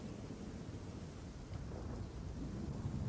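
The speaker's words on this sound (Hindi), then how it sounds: "दोबारा वही तूफान।" A steady thunderstorm with heavy rain hissing continuously and low thunder rumbling underneath, dense and unbroken throughout, without any voices.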